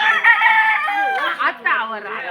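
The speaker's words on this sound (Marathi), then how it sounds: "हे बघा, कोंबडा पण आहे" A rooster crows nearby in a village on Juva island, Sindhudurg, a long, loud, strained call that rises and then breaks into a wavering finish.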